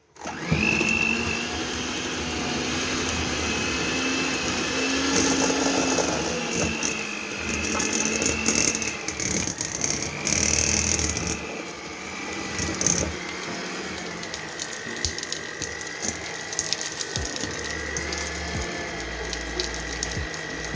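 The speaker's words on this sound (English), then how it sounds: "you're gonna cream the butter and shortening together until it's a nice fluffy consistency" A stand mixer creams butter and shortening together for American buttercream, giving a steady, loud motor whir with a mechanical rattle that runs continuously and shifts slightly in pitch partway through.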